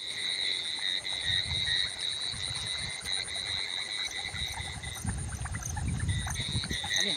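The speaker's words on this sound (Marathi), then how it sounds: "हा बेडकांचा आवाज." Frogs croak at night along a riverbank near farm fields, with insects trilling steadily throughout; the croaks are repeated and fairly close, with low rustling underneath.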